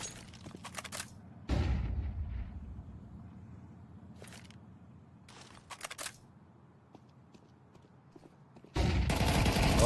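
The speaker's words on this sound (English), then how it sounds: "Oh, nice flashbang." In Counter-Strike 2, gunfire pops and sharp cracks punctuate a quiet stretch, then a loud, sustained bright burst hits near the end as a flashbang goes off.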